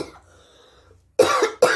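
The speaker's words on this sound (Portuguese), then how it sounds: "Deixa eu dar uma tossidinha aqui." Two sharp coughs from one person, close and loud, the second shorter, after a near-silent pause with faint room noise.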